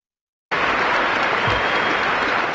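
A crowd gathered for King Charles III near Buckingham Palace breaks into loud, sustained applause that starts abruptly and holds steady.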